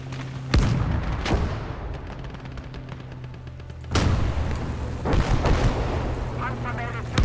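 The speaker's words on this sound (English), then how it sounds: "We're going to stop that with an airstrike." Airstrike explosions in the war video game Kampfgruppe land as a series of heavy, booming blasts, about five in all, spaced irregularly with rumbling tails, loud and close.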